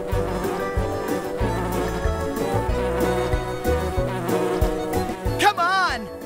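Cartoon bees buzz steadily over a bouncy musical score, with a whirring, swooping flourish near the end.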